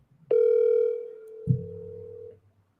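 An outgoing phone call that goes unanswered: a single steady electronic tone holds for about two seconds, then a lower tone overlaps it before both cut off, with no voice on the line.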